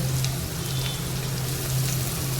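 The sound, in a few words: spices sizzling in hot tempering oil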